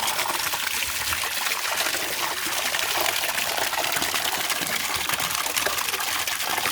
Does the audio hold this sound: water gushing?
yes